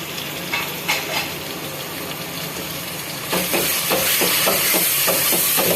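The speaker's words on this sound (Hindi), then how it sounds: "अच्छे से भुनेंगे इन सारे मसालों को।" Tomatoes and spices fry steadily in a pan with a continuous hiss and sizzle, while a spoon scrapes and stirs in rhythmic knocks; the frying grows louder midway.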